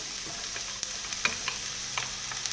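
Onions sautéing in a pan over medium heat, a continuous bright sizzle with soft scraping and stirring clicks, close and fairly quiet, no talking.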